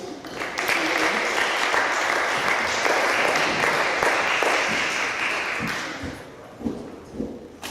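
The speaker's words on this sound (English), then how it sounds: "Can you clap for Miriam?" Audience at a student senate meeting breaks into loud, sustained clapping that swells quickly and fades after about five seconds, leaving a few scattered claps and thumps.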